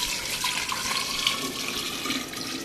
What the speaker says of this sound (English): I'll just pour it into a gallon jar at this point.